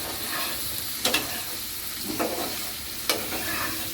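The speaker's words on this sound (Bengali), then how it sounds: "আলুটা একটু কষানো হইলে তারপর আমি শাক দিই" Potatoes, shrimp and tomato sizzle in a pan, a steady frying hiss broken by a few sharp scraping stirs of a utensil against the pan.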